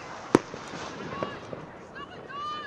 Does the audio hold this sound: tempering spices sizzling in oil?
no